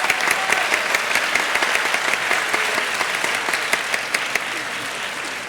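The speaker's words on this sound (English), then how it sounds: "Wait for the applause." A crowd at the Wood Oaks 2017 graduation ceremony claps steadily and densely, filling the hall with sustained, even applause that holds at a strong level throughout.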